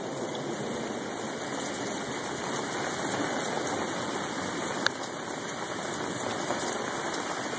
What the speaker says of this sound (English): Got well over an inch of rain in about 10 minutes here.